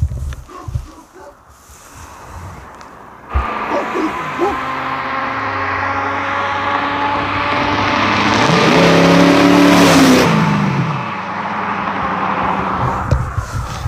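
A lowered car drives past, its engine building from a faint distant hum to a loud, revving roar as it nears and then fading away, with dogs' barks and brief voices at the start and end.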